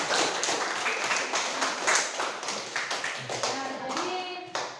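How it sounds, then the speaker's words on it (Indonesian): Classroom applause for a student group presenting in a chemistry lesson, a dense patter of many hands clapping steadily for several seconds, with children's voices chattering underneath. "beri tepuk tangan untuk kelompok 2."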